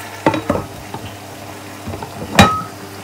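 Chicken frying in a covered pan for a creamy chicken with mushrooms and cashew dish, with soft sizzling under a few brief clinks and scraping stirs, one sharper clatter near the end.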